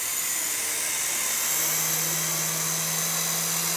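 A radio-controlled model helicopter flies close indoors, its small rotor and motor making a steady, loud, high-pitched whine and buzz that holds constant throughout, with no talking.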